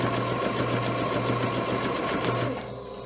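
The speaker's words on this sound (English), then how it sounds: "I'm following the edge line with my presser foot. And this is a lot of layers" A sewing machine runs steadily, stitching along an edge through a thick stack of fabric layers under the presser foot, a loud continuous mechanical hum with rapid needle clatter that drops slightly in level near the end.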